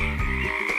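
A frog croaks in a short, steady, close call lasting under a second, alone with no voices over it.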